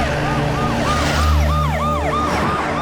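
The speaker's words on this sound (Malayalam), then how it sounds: "ചേട്ടാ, ആംബുലൻസ് ഉണ്ട്, നമുക്ക് അതിന്റെ ബാക്കിൽ വിടാം." A wailing ambulance siren sweeps up and down in a rapid repeating cycle, loud and close, over the low hum of vehicle engines in traffic.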